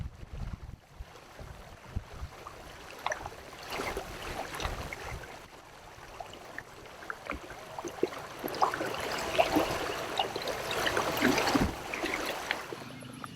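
A motorized YuPIK kayak runs at 22% throttle on Lake Marburg, giving a steady rush of wind and water that builds gradually with no talk over it.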